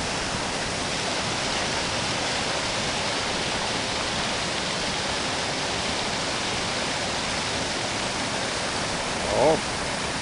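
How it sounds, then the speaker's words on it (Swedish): Rapids at a pond rush loudly and continuously, a dense close roar of churning water that holds steady throughout, with a brief faint tonal sound near the end. "Här brusar det ju skönt och hör."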